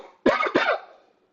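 A voice imitates a character coughing: two quick, close, harsh coughs in a row, then fading breath into silence.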